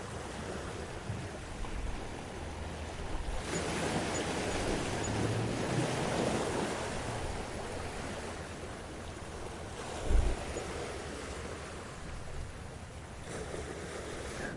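Ocean waves wash in a steady, broad roar of surf, with wind buffeting the microphone and a brief louder thump partway through.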